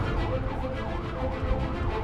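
An ambulance siren wails continuously with a rising and falling sweep while the vehicle pushes through traffic, heard from nearby over engine and road rumble.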